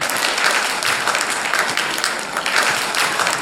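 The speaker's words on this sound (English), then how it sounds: "A huge round of applause for this great decision by our management." Sustained audience applause at a school ceremony honouring SSC and HSC toppers, a dense, steady wash of many hands clapping throughout, fairly loud and without talk.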